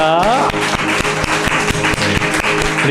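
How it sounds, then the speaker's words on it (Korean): Congregation at a New Year's Eve worship service claps in praise, steady rhythmic clapping over a sustained musical tone and a voice at the start, loud and close. "주님께 영광의 박수 올려드립니다."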